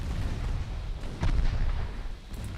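A deep, rumbling naval broadside from a battleship in the Ultimate Admiral Dreadnoughts warship game, a heavy low boom swelling briefly amid continuous low roar and distant thuds.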